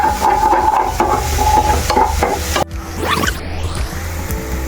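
Onion and ginger going into a hot frying pan for a simple chicken curry, with steady sizzling and stirring scrapes, then a sharp whooshing hiss as the ingredients hit the oil.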